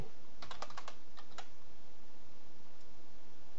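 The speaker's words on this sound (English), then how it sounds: "but I can type" Computer keyboard typing in a quick burst of close keystrokes over the first second and a half, then a few faint scattered taps against quiet room noise.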